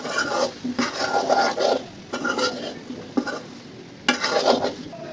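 Cumin, chili powder and a split bay leaf being stirred in a pan with a spoon, giving a steady series of close scraping strokes over a faint sizzle, with short pauses between bursts and no talking.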